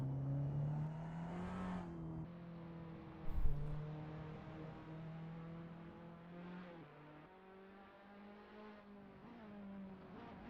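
A Formula-style race car engine in a video game at Interlagos drones steadily with harmonic pitch rising and dipping as the throttle eases on and off, plus a brief thump midway; no voices.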